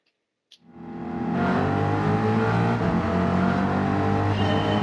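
A race car engine in the video game Gran Turismo 7 starts with a quick click, then rises into a loud, steady, sustained drone that stays close and constant to the end.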